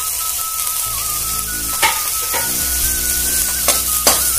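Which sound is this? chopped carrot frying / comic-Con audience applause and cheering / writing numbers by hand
chopped carrot frying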